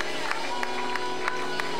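Church congregation claps in a steady, fast rhythm for two young ladies, the sharp, evenly spaced claps sitting over sustained organ-like tones and a voice speaking.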